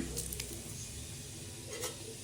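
Whole cinnamon, cumin seeds and cardamom sizzling in hot oil in a pan, a soft steady frying hiss with a few faint clinks, quiet and close, no talking.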